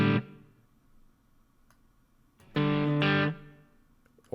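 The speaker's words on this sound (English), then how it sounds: "let's go for a little reverb here." An electric guitar through an amp simulator plays chords with a reverb tail that lingers and fades between strums, separated by quiet gaps.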